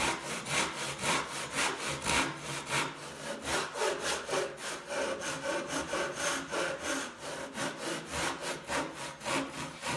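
A hand saw cuts through wood with a steady back-and-forth rasp, each stroke clear and close in an even rhythm for about ten seconds, with no voices.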